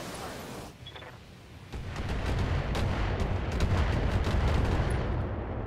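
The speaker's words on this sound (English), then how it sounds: "Precision strike. Try to lob some missiles at his head." Missile strike launched at a mech in the Battletech video game, a rumbling barrage of explosions that builds after a quieter start and keeps booming steadily, with sharp blasts scattered through the dense roar.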